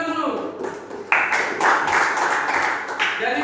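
Children in an Indonesian Christian religious education class clap hands together, a dense burst of applause starting a second in and continuing steadily to the end, with a voice audible at the start.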